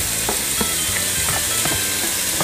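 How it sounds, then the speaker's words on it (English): Four slices of chopped thick-cut bacon sizzle and crackle in a 6-quart enamel Dutch oven while their fat renders. The frying is loud and constant, with small pops and stirring scrapes throughout. "I'm gonna just render some of that bacon grease"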